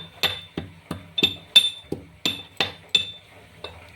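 Ginger, cloves and a small piece of cinnamon are pounded in a mortar with a pestle. About a dozen sharp, ringing knocks come at a steady, fairly quick rhythm, close and clear, with no talking.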